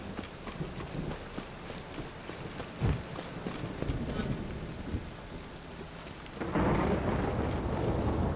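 Steady rain and low rolling thunder in the video game Witcher III, a dense continuous wash with a thunder crack near the middle and the downpour swelling louder toward the end, no voices.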